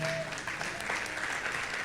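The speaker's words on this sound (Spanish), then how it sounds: "¿Cuántos le dan un aplauso al Señor?" A church congregation at a Sunday service applauds, a dense, steady wash of clapping hands that fills the short moment, with faint voices mixed in beneath the crowd.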